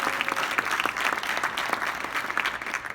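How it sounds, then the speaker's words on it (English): Sustained, dense applause from a large audience at an honors event, a steady wash of many hands clapping with no pauses, fairly loud and without speech over it. "Give her a round of applause for that."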